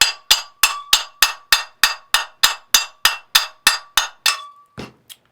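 A small brass hammer taps a spa pump part, from an Aqua-Flo Flo-Master XP2 pump, into place with about fifteen crisp, evenly spaced metallic clinks, loud and close, ending in a few softer knocks.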